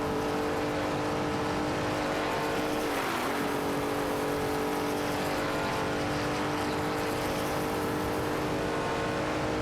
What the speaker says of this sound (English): Let's rev up those virtual engines and enjoy the race together.